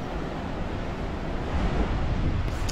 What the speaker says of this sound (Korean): 바람도 세고 파도도 높아서